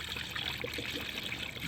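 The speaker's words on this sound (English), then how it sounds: "So we'll just pour up everything that we took out" Coolant poured back into a car's cooling system during an upper coolant hose T assembly replacement, a steady close trickle and splash of liquid running continuously without pause.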